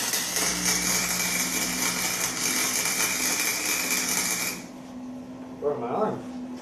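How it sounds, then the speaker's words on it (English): Flux core MIG welding with a Forney Easy Weld 299 125FC, a 120-volt, 125-amp welder. A steady, harsh crackling hiss runs for about four and a half seconds, cuts off abruptly, and is followed by a brief softer sound. "my son's going to show us how to weld."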